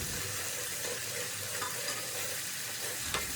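Ginger-garlic paste sizzles steadily in a frying pan while being stirred for a fish curry, a soft continuous frying hiss with faint scraping touches and no talking.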